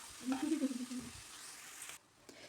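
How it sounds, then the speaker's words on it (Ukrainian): Carrots sizzle and crackle in a hot pan over low heat, with a brief stirring scrape near the start, then the frying quiets down. "хай воно тушкується, підсмажується на невеличкому вогнику"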